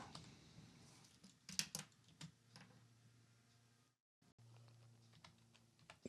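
Keys clatter on a computer keyboard as a git pull command is typed into a terminal, with soft, irregular taps, a short burst of louder strokes, a brief pause, and a faint steady hum underneath.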